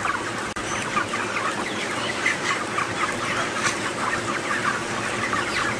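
Dense murmur of many chickens clucking inside a crowded poultry house, a steady overlapping chatter of short calls filling the space at close range with no pauses, and a single sharp click near the start.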